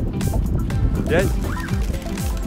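Pigeons gather close by on an outdoor family outing, their soft cooing and flutter set under steady talk from adults and a small child.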